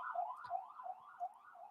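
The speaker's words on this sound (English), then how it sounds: "Jeez, these sirens today, right?" Sirens outside, a faint distant wail that rises and falls in a steady repeating sweep.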